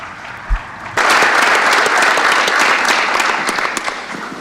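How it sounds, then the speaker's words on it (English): Conference delegates on the Information Society in Latin America and the Caribbean break into applause approving the agenda, a sudden loud burst of many hands after a single thump, sustained evenly and fading slightly at the end. "I would like to ask for a round of applause to signal that we have"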